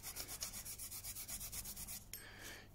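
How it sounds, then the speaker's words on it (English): A Garryflex abrasive block rubs rust off a Stanley folding knife blade in quick, even back-and-forth strokes, close and fairly quiet, with no talking. "just by going over with the Gary Flex block,"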